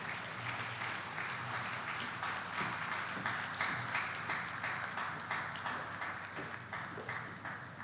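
An audience at the NUTM Scholars Program graduation ceremony gives a sustained round of applause to welcome a speaker to the stage, steady dense clapping that fades slightly toward the end.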